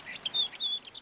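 Birds call on remote, windswept Attu Island, a few thin, high chirps and short whistles, faint and somewhat distant, over quiet open air.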